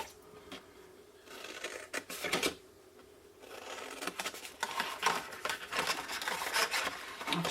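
Quiet, close-up crunching and snipping of scissors cutting through stiff card, in irregular bursts with short pauses between cuts.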